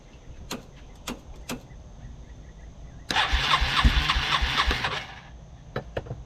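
An abandoned Yamaha ATV engine, primed with starting fluid, cranks with a few sharp clicks, then catches and runs roughly and loudly for about two seconds before dying, leaving scattered clicks and quiet.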